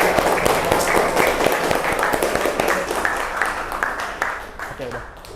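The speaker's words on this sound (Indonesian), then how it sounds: "Kasih tepuk tangan." An audience claps at the end of a classroom session, a fairly close, busy patter of many hands that slowly thins out, with voices underneath.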